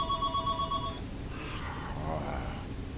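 A telephone rings with a quick electronic bell trill in short repeated pulses for about a second, then stops, leaving faint background noise and a low voice.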